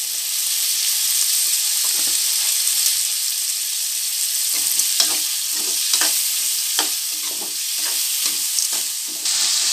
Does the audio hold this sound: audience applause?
no